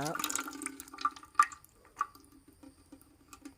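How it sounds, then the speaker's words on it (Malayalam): Rubber latex tapped from a rubber tree is poured into a container, giving a faint, close liquid dribble followed by a few scattered soft drips in a quiet setting. "ഇതാണ് റബ്ബറിൻ്റെ കറ. ഈ കറ എടുക്കുക, ഇതിലോട്ട് ഒഴിക്കുക"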